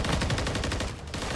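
Sustained automatic gunfire from a Call of Duty MWIII match, rapid rhythmic bursts of shots firing continuously and loudly with no break.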